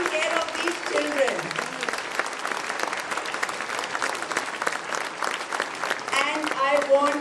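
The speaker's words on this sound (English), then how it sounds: "I want a loud round of applause for our Didis." Loud applause from an audience at a kindergarten presentation, dense clapping with some voices and cheering mixed in, rising toward the end.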